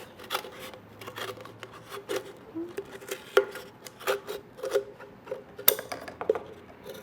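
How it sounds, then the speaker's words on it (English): A can being cut around its circumference with a blade for a DIY fruit Halloween costume, close rasping and scraping strokes with scattered sharp clicks and ticks in an irregular rhythm, no talking. "poke a hole in the can, and then cut right around it to cut that off"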